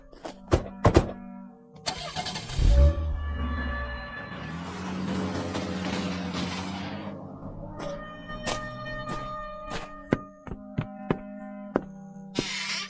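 Radio-drama car scene: a door thump and knocks, then an engine cranks and starts, idles and rumbles as the car pulls away, followed by scattered sharp clicks and knocks.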